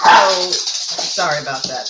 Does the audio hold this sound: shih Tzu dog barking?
yes